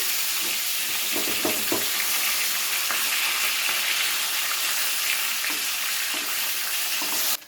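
Pieces of rohu fish fry in hot oil with a loud, continuous close-up crackle and sizzle, with a few faint scrapes as the pieces are turned.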